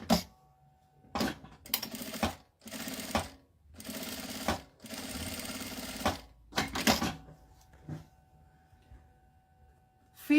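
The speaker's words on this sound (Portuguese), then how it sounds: "E vou passar uma costurinha aqui." A sewing machine stitches bias binding onto fabric for a wallet, running in several short bursts of rapid mechanical whirring separated by brief pauses, close by.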